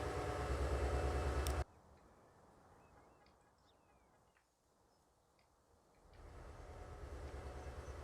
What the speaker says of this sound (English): we need to get this commuter train out of the way.